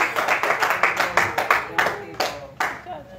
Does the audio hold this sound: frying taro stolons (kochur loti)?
no